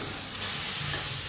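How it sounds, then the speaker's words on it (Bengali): Spiced masala paste frying in hot oil for green hariali chicken, a steady close sizzle with soft scraping stirs running through the whole short stretch, no voices. "এবার আমি বাটিতে যে মশলাটা তৈরি করেছিলাম সেটা দিয়ে দিচ্ছি। দিয়ে আবার বেশ খানিকক্ষণ ধরে এটাকে কষে নেব, যতক্ষণ না তেল ছাড়ছে।"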